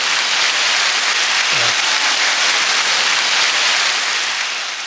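Small podcast studio audience cheering and applauding, a steady dense clapping wash that holds loud from start to finish with no voices over it.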